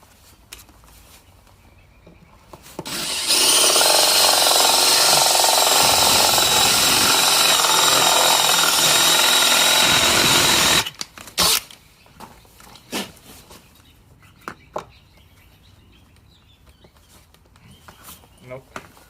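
A power drill boring a concealed hinge hole in a cabinet door, one loud sustained whirring grind lasting about eight seconds close up, framed by quieter taps, knocks and handling noises before and after.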